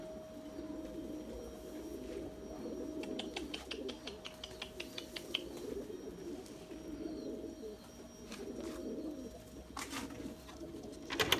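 Breeding pigeons in a loft coo softly and repeatedly, with bursts of sharp clicking and flapping scattered through the steady low murmur of the flock.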